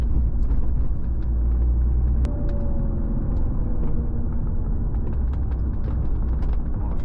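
Heard from the cabin, a BMW E36 M3 engine drones loud and low, its tone shifting slightly as the car drives on, with mechanical clicks over a steady rumble and no voices.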